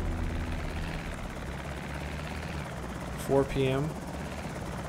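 A helicopter in the zombie survival game Project Zomboid drones with a steady low rotor throb in the background, while someone speaks briefly over it near the end.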